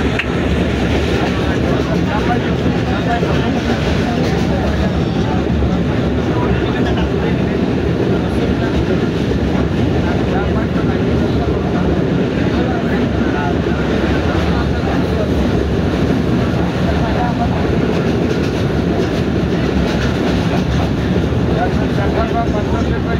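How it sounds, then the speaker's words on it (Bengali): A train runs steadily on a Bengal journey toward Rajshahi, heard from inside the carriage: a continuous loud rumble with faint clickety-clack of the wheels, unbroken and close, with no distinct talk over it. "ফাইনালি আমরা ট্রেনের ভিতর যাচ্ছি"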